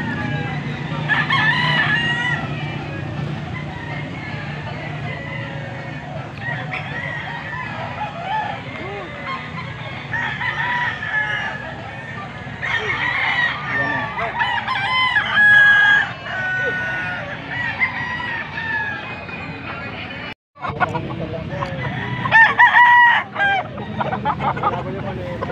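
Roosters crow several times amid a busy outdoor market crowd in Bocaue, with clucking fowl and people chatting in the background.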